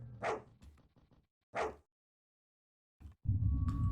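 Dogs in the dark horror game Fear & Hunger bark twice in quick separated bursts, close and clear, followed by silence and then a low rumbling ambient drone with a faint tone.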